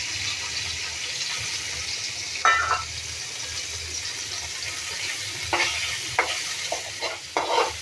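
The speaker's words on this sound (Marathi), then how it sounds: "त्याला थोडं आपण ह्याच्यामध्ये तळून घेऊया" Bombay duck (bombil) fish fry in hot oil seasoned with turmeric, giving a steady close sizzle with several sharper crackling bursts toward the end.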